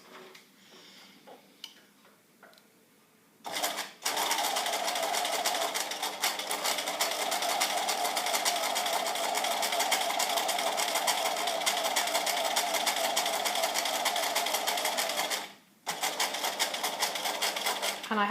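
A sewing machine stitches a collar seam in one long steady run, a fast even whir close by, starting after a few quiet seconds and halting briefly near the end.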